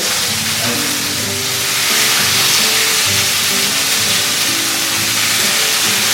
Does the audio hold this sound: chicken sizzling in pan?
yes